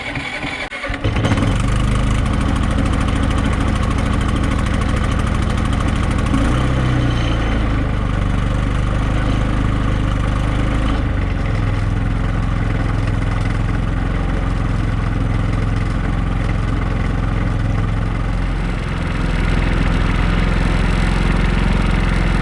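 A Predator 3500 generator fitted with an exhaust extension cranks into life and settles into a loud, steady mid-pitched engine hum, shifting its pitch briefly as the load changes and then running evenly for the rest.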